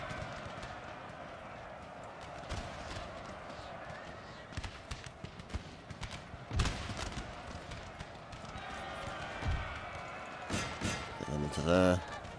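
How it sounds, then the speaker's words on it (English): Cavalry horses galloping in the Napoleon: Total War video game, a steady clatter of hooves under battlefield noise with scattered louder thumps and some voices. "Oh, our horses are running."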